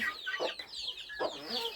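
A flock of backyard chickens clucks up close, a few short overlapping calls in quick succession with no speech over them.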